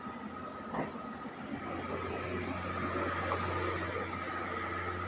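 A PNR passenger train rumbles with a steady, continuous low roar and faint squeal heard from on board, holding an even level throughout.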